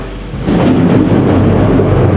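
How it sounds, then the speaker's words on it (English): Loud rumbling thunder rolls through a stormy downpour, a deep sustained roar that swells after a brief quieter start, with rain hissing throughout. "it's thunder and storming badly outside"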